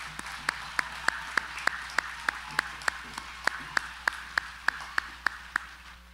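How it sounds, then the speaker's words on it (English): Applause from a high school graduation audience, a fairly faint but steady patter of many hands with a few sharp, regular claps standing out above it, continuing for several seconds. "let's please give them one more round of applause."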